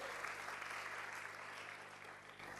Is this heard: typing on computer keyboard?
no